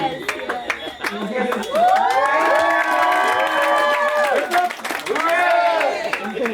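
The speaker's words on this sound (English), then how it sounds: "I want to give her a big round of applause." Wedding reception guests clap and cheer in a lively burst, with high whoops and drawn-out shouts rising over a scattered patter of close hand claps, the cheering swelling, dipping, then surging again.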